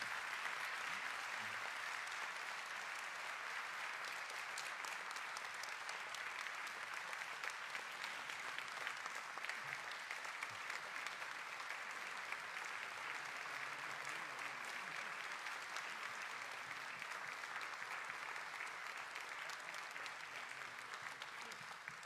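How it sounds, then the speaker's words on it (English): Sustained applause from a church congregation, a dense steady wash of many hands clapping for over twenty seconds at even loudness, with faint voices mixed underneath. "Let's give them a round of applause and saying thank you."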